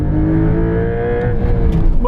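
A 2024 Porsche 911 Carrera T engine revving under throttle, a loud, close, steady engine note holding for about two seconds before rising slightly at the end.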